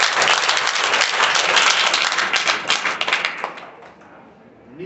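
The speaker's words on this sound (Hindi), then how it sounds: "जोरदार तालियां बजा करके अपने आप को" Loud, dense applause from a large audience, steady for a few seconds and then thinning out and fading.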